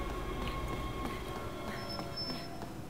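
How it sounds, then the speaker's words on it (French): Subway train rolling past in the Resident Evil 6 video game, a steady loud rumble with rail hiss and a brief high whine, continuous throughout. "Le passage du métro."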